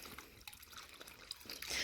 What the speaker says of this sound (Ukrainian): Ось зараз даю е, песику води.